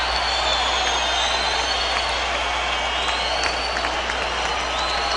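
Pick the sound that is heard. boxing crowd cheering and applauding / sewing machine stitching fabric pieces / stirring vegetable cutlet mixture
boxing crowd cheering and applauding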